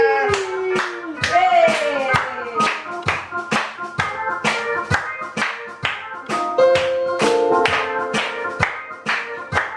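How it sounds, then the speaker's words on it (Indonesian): Children at a Sunday school service clap their hands in a steady, regular beat of about two claps per second, with sustained melodic tones from singing or an instrument running under the claps. "Mana tepuk tangannya?"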